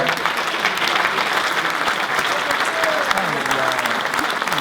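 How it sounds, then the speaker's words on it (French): Steady, dense applause from an audience at a municipal New Year's ceremony honoring a young volleyball player, continuous clapping across the whole stretch with a faint voice underneath. "On peut l'applaudir."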